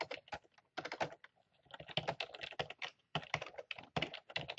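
Quick bursts of clicking keystrokes from typing a message on a computer keyboard, close but quiet, with short pauses between runs and no talking.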